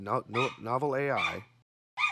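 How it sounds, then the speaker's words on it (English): A dog close by lets out a quick run of yips and whining bow-wows, then falls silent before one more short yelp. "there's my dog"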